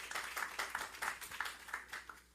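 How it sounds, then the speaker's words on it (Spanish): Audience applause in a talk or seminar setting: quiet, steady rhythmic clapping in distinct bursts, fairly faint and without voices, tapering off toward the end. "Dale un aplauso, merece el aplauso."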